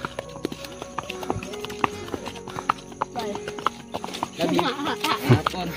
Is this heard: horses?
yes